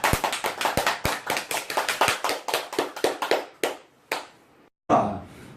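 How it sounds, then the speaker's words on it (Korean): A congregation claps after a prayer in sharp, close, rhythmic beats about four per second, then thins to a few scattered claps, a short gap and one last burst. "영광의 박수 올려드립니다."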